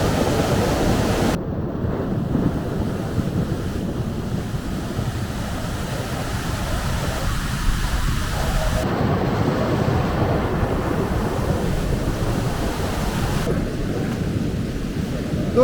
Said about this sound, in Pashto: ډېرې خطرناکې اوبه دي دوستانو